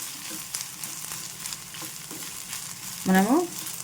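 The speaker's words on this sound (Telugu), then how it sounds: "ఇప్పుడు స్టవ్ని హైలో పెట్టుకుని చక్కగా దీన్ని ఫ్రై చేసుకోవాలి" Grated fresh coconut fries on a high flame in a pan, giving a steady low sizzle with soft scraping as it is stirred, close by, and a brief squeaky tone near the end.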